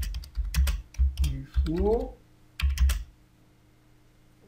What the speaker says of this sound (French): Donc ensuite, je vais saisir l'adresse.